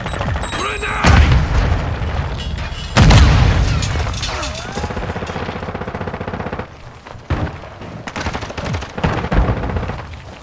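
In Modern Warfare 2, a grenade blast booms amid rattling machine-gun bursts and rapid gunfire, loud and continuous with a second heavy explosion, while voices speak over the combat.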